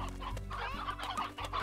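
Digital chickens in the farming game Slime Rancher cluck in a short, close burst of clucks, clear and alone.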